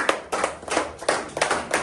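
An audience at a gathering claps in thanks to a family, a short burst of crisp, fairly even hand claps repeating in quick rhythm.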